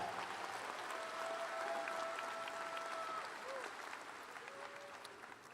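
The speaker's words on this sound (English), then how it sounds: "You can applaud that." A graduation audience at a university undergraduate commencement applauds in steady, dense clapping heard from a distance, with a few faint voices and whistles over it, tapering off slightly at the end.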